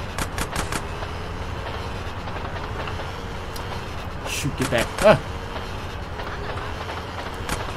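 A train rolls past in Grand Theft Auto San Andreas, a continuous rumbling clatter of rail cars with rhythmic clicks, partly under a player's excited voice and game sounds.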